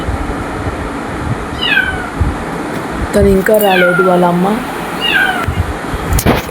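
A kitten hiding under a bed meows loudly several times, with a longer drawn-out wail in the middle, while a person talks nearby over a steady background hum.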